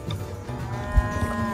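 A cow moos in a long, low, steady drone that holds for the whole moment.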